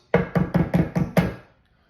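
Six quick, evenly spaced knocks rap on a door nearby, loud and sharp, then stop.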